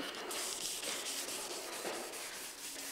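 Fine 320-grit sandpaper rubbing over a previously varnished wood surface, a steady close scratchy swishing with rhythmic back-and-forth strokes and no talking.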